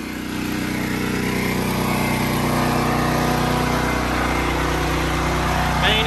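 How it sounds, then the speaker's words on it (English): Westinghouse WGen9500 portable generator running steadily under the load of a 3-ton AC unit, a loud, continuous engine drone with a constant low hum throughout. "Westinghouse 9500 running a 3-ton AC unit."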